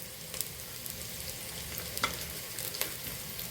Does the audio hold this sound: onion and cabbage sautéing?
yes